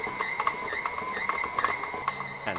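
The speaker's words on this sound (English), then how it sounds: "Minsan, kailangan nating hawakan yung mixer dahil naglalakad siya." Stand mixer kneading ensaymada bread dough, a steady mechanical whir with a rhythmic knocking as the dough slaps around the bowl, close and moderately loud, with no voices.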